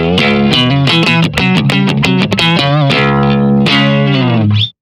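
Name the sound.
electric guitar through Flatsons FCP-2 compressor pedal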